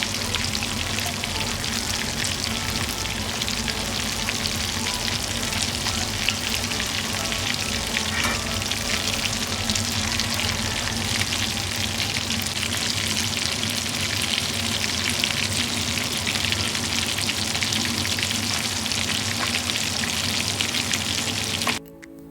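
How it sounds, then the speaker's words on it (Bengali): Steady, loud sizzling of bhetki fish frying in hot oil, a continuous crackling hiss that runs unbroken throughout. "মাছটা কিন্তু ভাজা হচ্ছে"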